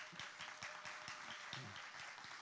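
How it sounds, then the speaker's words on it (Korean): A Korean church congregation gives brother Noh Ho-jun a round of blessing applause, soft, distant clapping from many people with a few distinct nearer claps and faint murmuring voices underneath. "우리 축복의 박수 한번 해주시면 감사하겠습니다"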